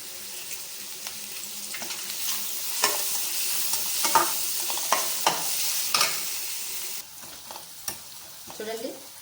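Chopped onions with a pinch of salt frying in a pan until light golden, for an egg semiya dish: a constant close sizzle broken by repeated scraping stirs and spoon knocks, with a brief lull late on.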